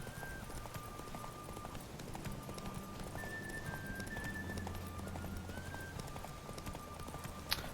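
Steady clip-clop of horse hooves galloping at a brisk, even pace in the video game Witcher 3, with faint sustained electronic tones in the background.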